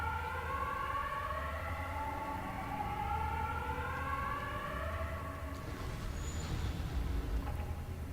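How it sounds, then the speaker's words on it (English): Air raid sirens in the video game Pacific Drive during a red-alert superstorm, several long wailing siren tones rising and falling together at a distance over a low rumble, fading toward the end. "We've got the red alert. Okay, so that's the superstorm that's coming. And the air raid sirens."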